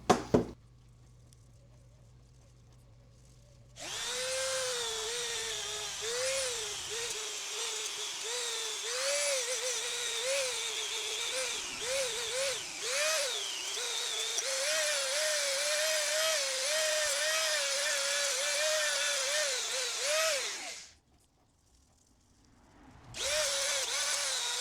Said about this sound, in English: we're going to be using a Dremel with a buffing wheel, and we're going to get all these pieces cleaned up